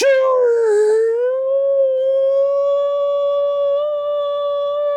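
A dog howls in one long, near and loud sustained tone, wavering at the start and then holding steady with a slight rise toward the end.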